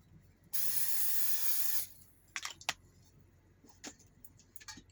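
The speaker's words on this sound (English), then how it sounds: "Going to go in with some non-stick spray." A single loud burst of non-stick cooking spray hisses for over a second, then stops, followed by scattered light clicks and taps nearby.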